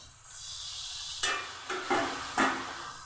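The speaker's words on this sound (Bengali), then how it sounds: "মাংস আমি ভালো করে কষে নিচ্ছি।" Medium-sized chicken pieces for tomato chicken biryani frying and being stirred in hot oil with salt and spices, a steady close sizzle broken by a few louder scraping stirs.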